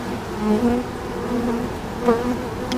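Steady droning buzz of many honeybees close by at a hive of a relocated swarm, a continuous hum with slight wavering pitch and no other sounds.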